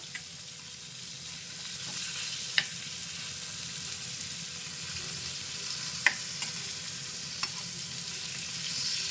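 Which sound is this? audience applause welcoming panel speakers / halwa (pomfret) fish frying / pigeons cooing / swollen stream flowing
halwa (pomfret) fish frying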